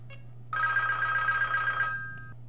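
An office telephone rings at a dental surgery: one sustained trilling ring of about a second and a half, preceded by a faint brief chirp, fairly loud and close in a quiet room.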